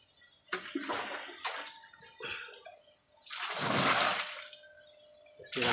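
Water is poured in surges to flush 20-day-old catfish fry along a sorting container, gushing and splashing in several bursts with quieter trickling between, no talk.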